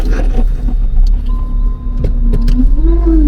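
Low rumbling road noise fills a car's cabin as it drives slowly through a residential area of Kuwait in search of a parking spot. Small clicks and a rising whine sound over the steady hum.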